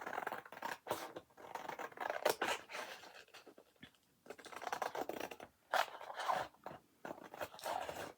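Snipping and scratching sounds come close by as hexagon templates are cut and handled for hand-stitching, made up of short irregular cuts with quiet pauses between them and no talking.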